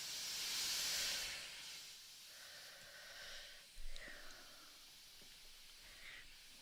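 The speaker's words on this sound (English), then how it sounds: "Look at all that steam." Steam hisses loudly from a railroad locomotive, a strong burst at the start that fades into softer, intermittent venting with a brief thump partway through, heard alone without talk.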